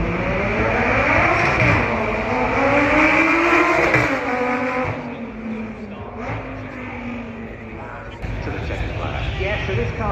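A supercar from 2012 on the Goodwood Festival of Speed supercar run, its engine note rising and falling as it passes at speed, with a commentator talking over it throughout.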